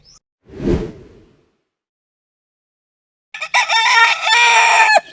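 A quick whoosh passes, then after a pause a Brassback gamefowl rooster crows loudly and close, one long strained call lasting under two seconds.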